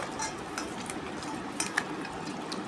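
A spoon stirs tamarind paste and salt into a tamarind broth, making soft swirling liquid sounds punctuated by a few faint metallic clinks against the pot, quiet and close.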